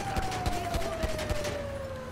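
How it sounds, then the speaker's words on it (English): Evenly spaced gunshots ring out in the GTA V video game, about six sharp reports in quick succession, with a police siren wailing steadily underneath. "Sorry for just shooting people."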